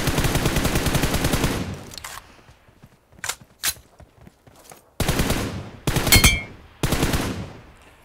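Automatic rifle fire in PUBG Mobile: a long sustained burst, then scattered single shots, then several loud, close bursts of rapid shots with short pauses between them.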